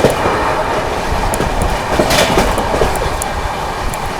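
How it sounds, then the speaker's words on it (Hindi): Maharashtra Sampark Kranti Express train running at about 130 km/h, heard as a steady loud rolling rumble with rail clatter and faint wheel clicks throughout, no voices. "क्या ओवरटेक मारा है, फ्लैट 130 की रफ्तार में भाई अपनी महाराष्ट्र संपर्क क्रांति।"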